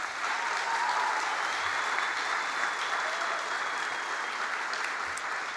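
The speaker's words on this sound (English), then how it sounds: "Yeah, round of applause for them" Applause from a community college commencement ceremony crowd fills the space, a continuous, even roll of many hands clapping that holds at a moderate level without speech.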